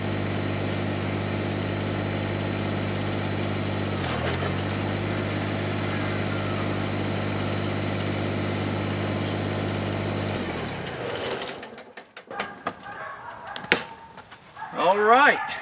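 A Kubota BX2370 subcompact tractor engine runs with a MechMaxx 24-inch stump grinder attached, giving a steady, even idle hum for about ten seconds before cutting off into scattered clunks and rustling.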